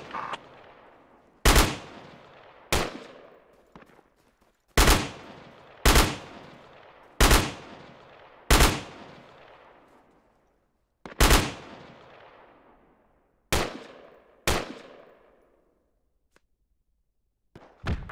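Gunfire in the military shooter Project Reality: a dozen or so sharp, separate loud shots spaced a second or two apart, each ringing off with a long echoing tail, no talk over them.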